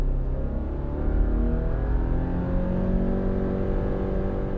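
A 2024 Subaru Crosstrek accelerates in normal drive mode, its engine giving a steady, close droning hum with smooth rising harmonics and no voices over it.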